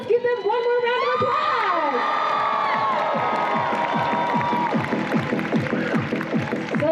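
A crowd cheers and applauds at a cosplay competition at Fan Expo Denver, a dense, sustained roar of voices and clapping with sharp individual claps running throughout.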